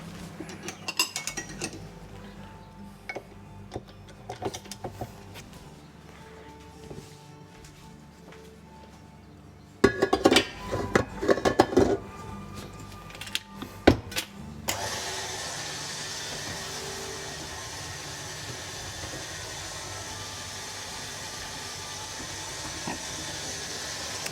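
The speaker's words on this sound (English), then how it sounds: "So that will go into the KitchenAid again briefly just to combine it." A KitchenAid stand mixer briefly blends cornbread batter in a home kitchen, giving a mechanical whirring and clattering with rattling bursts in the middle, then settling into a steady, hissy motor drone near the end.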